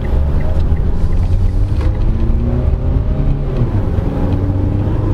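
A 2023 Mitsubishi Xpander GLS accelerates hard toward high speed, its engine droning loudly from inside the cabin with a rising, steady rumble.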